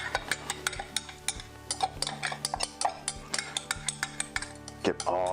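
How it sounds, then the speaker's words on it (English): A spoon or whisk clinks and taps repeatedly against a bowl while protein carrot cake batter is mixed, in quick irregular strokes close up, with a soft background hum and no talk. "Now we're gonna mix this up here really quick."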